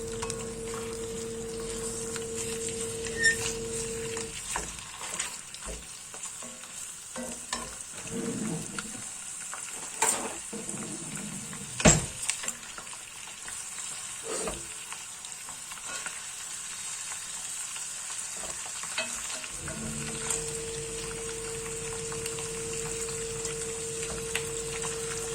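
Pieces of rabbit browning for an old-fashioned lapin chasseur, with a steady close sizzle of frying in a pan that runs the whole time, broken by occasional stirring scrapes and clinks.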